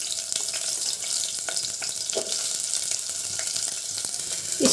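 Finely chopped onions fry in two spoons of oil for bottle gourd sambar, a continuous close sizzle with occasional soft stirring clicks and scrapes, no voices.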